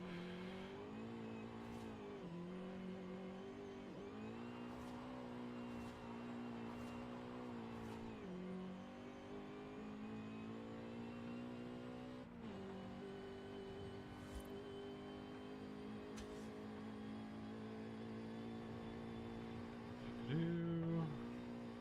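Car engine in Forza Horizon 5 holding high revs through a drift, a sustained droning whine that dips and climbs with gear changes and throttle lifts, with a brief tire-squeal-like chirp near the end.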